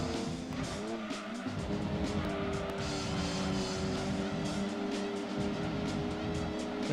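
Gran Turismo 2 race cars scream through a race with continuous layered engine whine, shifting revs and tire squeal, loud and steady throughout with no talking.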